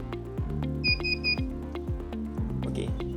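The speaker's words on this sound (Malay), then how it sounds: "buzzer akan berbunyi" The buzzer of a preschool smart attendance scanner sounds: a repeating electronic tone pattern in short stepped phrases, steady and moderately loud, alone without talk.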